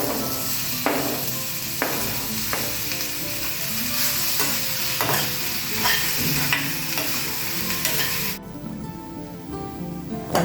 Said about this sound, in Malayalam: അതുപോലെ സവാളയും തക്കാളിയും കൂടി വഴറ്റിയിട്ട് ചേർക്കാം